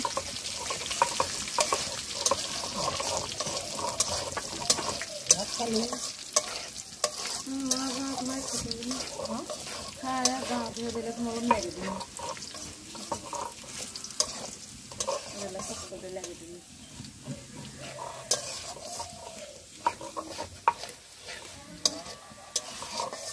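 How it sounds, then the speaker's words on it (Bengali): Bay leaves, chilies and cumin fry in hot oil for a sweet jujube pickle in a village kitchen, a steady sizzle with scraping stirs and occasional clatter running throughout, while voices murmur faintly in the background. "আর তেজপাতা দিয়ে তেলানি দিবে মনে হচ্ছে"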